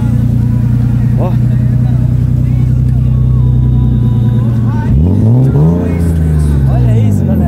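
A BMW E36 325 engine idles with a deep, steady rumble, then revs hard near the end, its pitch climbing and falling in a loud, close sweep.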